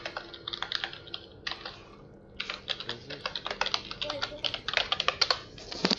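Quick, uneven clicks of a computer keyboard being typed on, with short pauses between runs of keystrokes, close and fairly quiet.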